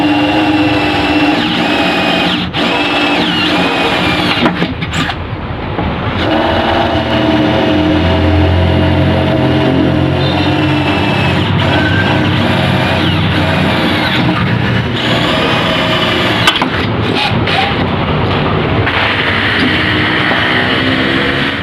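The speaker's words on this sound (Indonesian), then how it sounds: "Dan sekarang kita coba pakai mata bor besi," An EDON LV3 12V cordless drill fitted with a 5 mm iron bit whines loudly and steadily, its motor tone shifting slightly as it bores through metal roofing for a canopy, with no talking over it.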